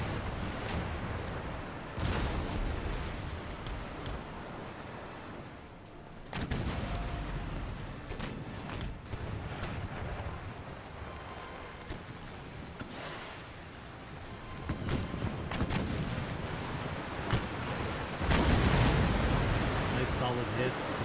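Cannon fire and hull hits from a naval battle in Empire: Total War, heard as a dense run of booms and impact bursts, with a heavy low-end blast near the end, all under ongoing talk.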